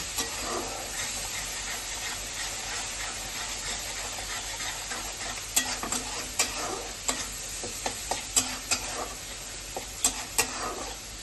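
Spice paste frying in oil in a pan while cooking banana flower with prawns, stirred: a continuous soft hiss of sizzling with scattered clicks and spoon scrapes that grow more frequent toward the end.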